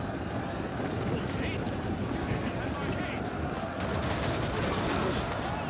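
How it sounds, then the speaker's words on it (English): Gunners firing during a siege battle in Total War 1212 AD, with dense, overlapping gunfire crackling continuously under a thick wash of battle noise. "There you go, gunners firing away,"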